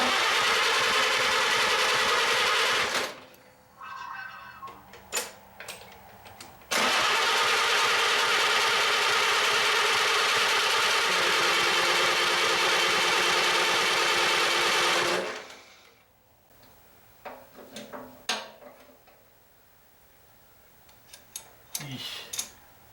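A Farmall tractor engine just after a tune-up, running loud and steady with a dense mechanical clatter, cutting out briefly, restarting, then dropping away to quieter knocks and scattered clanks.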